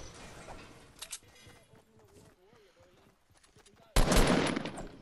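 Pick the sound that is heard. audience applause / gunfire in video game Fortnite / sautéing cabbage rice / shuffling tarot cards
gunfire in video game Fortnite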